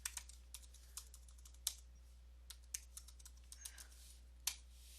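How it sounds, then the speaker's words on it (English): Password typed on a computer keyboard, a quiet irregular patter of individual key clicks with a few sharper presses, close and without talk over a low steady hum. "I'm just gonna type my password."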